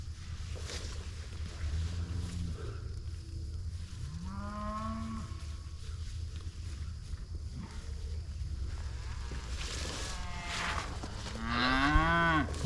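Cows and young calves moo as they are moved during calving season, with several drawn-out calls near and far over a steady outdoor rumble of wind or engine noise.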